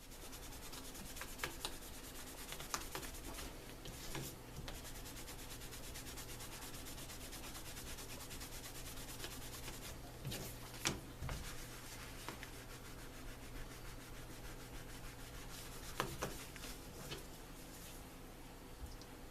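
Soft, continuous rubbing as a cloth buffs excess dye off dyed leather, a faint, steady scrubbing with occasional stronger strokes.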